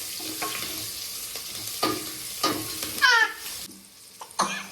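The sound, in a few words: stirring turmeric into a cooking pan for sambar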